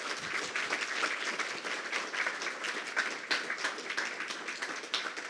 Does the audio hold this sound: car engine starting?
no